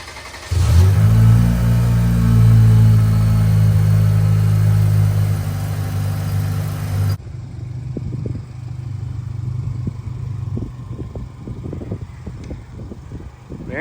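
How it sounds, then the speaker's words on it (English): Cold start of a 2023 Chevy Colorado Z71 with a MagnaFlow Overland Series exhaust: a loud, deep engine roar for several seconds, then settling into a steady rumbling idle with small clicks and noises around it. "Cold start MagnaFlow Overland Series exhaust"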